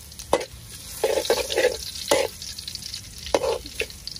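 Food frying in a pan at a home family meal, with a steady sizzle and repeated scraping, clattering strokes of a utensil stirring it, close and fairly loud with no talk.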